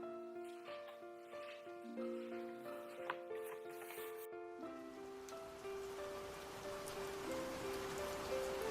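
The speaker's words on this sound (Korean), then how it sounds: "계속 비가 오네요" Steady rainfall during the rainy season, a dense hiss that swells midway and continues under sustained musical tones.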